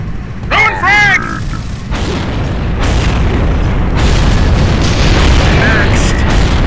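Frag grenade blasts in the shooter game Gears of War, with several heavy booming bursts landing a second or so apart over continuous rumbling game noise while players talk.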